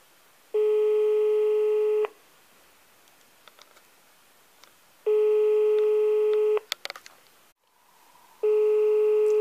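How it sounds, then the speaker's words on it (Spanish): A telephone ringback tone from a call to a hospital in León, Spain repeats three times in long, steady bursts with silent gaps, with faint clicks and rustling in between and nobody answering. "14 minutos sonando un teléfono y que en un sitio, pues, me imagino que alguien lo escuchará"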